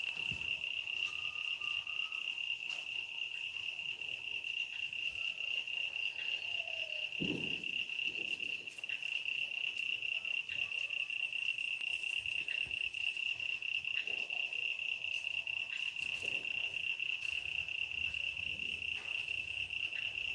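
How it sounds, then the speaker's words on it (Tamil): Frogs croaking at night alongside a loud, unbroken high insect drone, the croaks rising as occasional low bursts through the steady chorus, fairly close and with no talking. "ஏய் தவளை சவுண்டு இல்லாமல் இரு காது கிழியுது"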